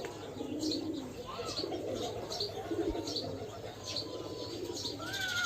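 Pigeons and their young cooing at a pigeon farm, soft repeated coos and chirps with occasional wing flaps, steady and close in a quiet setting.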